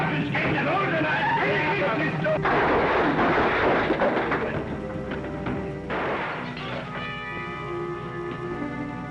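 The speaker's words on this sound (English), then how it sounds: "Who shot out that lamp?" A gunshot in an old 1940s western rings out as a loud, booming blast with a long rumbling decay, followed by echoing reports and clattering, while voices talk over the commotion.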